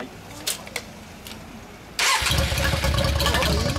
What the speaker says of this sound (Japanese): エンジン音聞かせて